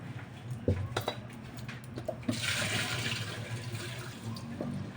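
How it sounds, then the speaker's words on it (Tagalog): Water pours and splashes steadily into a pot of chicken for sinampalukang manok, a continuous rushing stream after a few light knocks and clinks. "Lalagyan ko na siya ng tubig"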